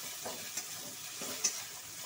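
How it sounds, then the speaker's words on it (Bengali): Chili and turmeric spice paste frying in a pan for a katla fish curry, a soft steady sizzle with a couple of faint scraping stirs, fairly quiet throughout. "এবার আমি মশলাটাকে ভালো করে কষিয়ে নেব"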